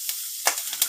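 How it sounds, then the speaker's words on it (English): Potatoes dropped into a pan of hot avocado oil give a bright, close sizzle with hissing bursts that flare up as they land, with no talking. "that was a nice sizzling sound"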